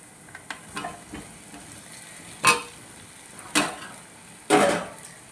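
Spices, fried potatoes and oysters sizzle in a pan for oyster curry, a low steady fry broken by three louder bursts of hissing and stirring scrapes spaced about a second apart.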